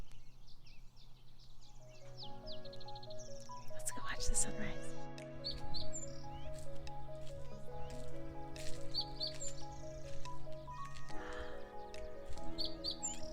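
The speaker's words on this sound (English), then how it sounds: "It feels really good to hear the birds here." Small birds chirp and tweet at sunrise in scattered high, faint calls that recur throughout, heard under a person talking and a steady musical background.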